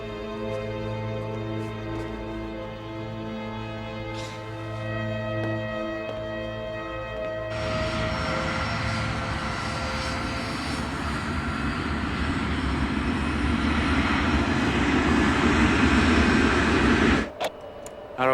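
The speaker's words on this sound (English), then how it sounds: "Look, Kate, I'm gonna push this plane today, see what she can do" Avro Arrow jet engines idle with a steady whining hum, then spool up into a loud, broad roar that holds for about ten seconds before cutting off sharply.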